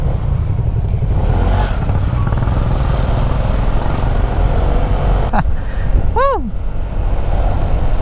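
A Honda ADV 150 scooter engine with a 62mm bore kit rumbles steadily close by, with traffic noise around it and a short sweeping whistle-like sound near the end.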